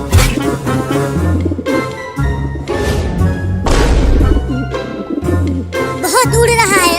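In a cartoon, a pigeon coos and flutters while someone chases it indoors, with soft cooing and thumps mixed among voices and tonal background sounds.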